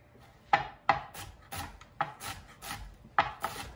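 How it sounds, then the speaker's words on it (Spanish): Knife chopping serrano chile into small cubes on a cutting board, a series of sharp, close thuds in an uneven rhythm with soft scraping between strokes, no talking. "ahora vamos a picar el chile serrano en cuadritos también"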